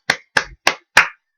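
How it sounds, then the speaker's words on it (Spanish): Four crisp, evenly spaced hand claps, close and fairly loud, from a single person applauding during an online Asturian-language class, with no talk over them. "Un aplauso para Cris."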